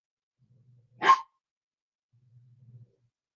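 A small red Chiweenie gives one sharp bark from nearby, followed by faint low shuffling in an otherwise quiet room.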